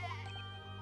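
A goat bleats in Professor Layton vs Phoenix Wright, one short, buzzy, harmonic-rich cry, close and fairly loud over a steady low hum.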